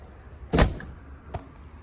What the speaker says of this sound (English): Friction hinge on the door, it stays where you leave it.